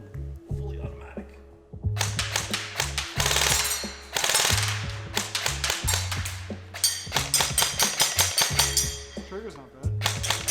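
A Krytac P90 airsoft gun fires fully automatic in several rapid strings of sharp, clicking shots, close and crisp, separated by short pauses and quieter mechanical hum.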